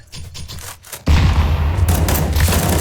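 A video-game grenade goes off with a sudden heavy boom a second in, followed by sustained loud rattling gunfire, with scattered quieter shots before the blast.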